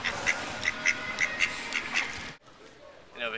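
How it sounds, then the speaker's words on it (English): Ducks quack close by in a quick, irregular series of about eight sharp calls, with a person's voice briefly heard near the end. "Come here, duckies. Ducks."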